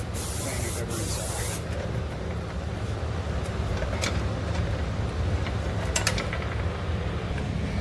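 Brake cleaner sprays in a sharp, loud burst at close range onto a Ford Transit brake caliper bracket, followed by metallic clicks and handling noises in a workshop.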